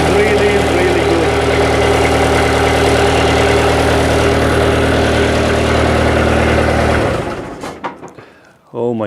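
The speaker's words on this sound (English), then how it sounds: "Oh my god, this tractor started right away with this battery" A tractor engine runs at a loud, steady idle after being jump-started with a power bank booster, then cuts out near the end, leaving brief clatter and quiet.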